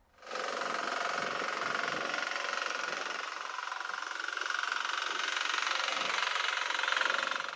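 A mini weeder's small engine runs at a steady drone for the whole stretch, close by and loud, with no talk over it.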